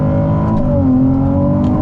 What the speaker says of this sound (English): whatever your right foot is doing, the engine responds to it immediately.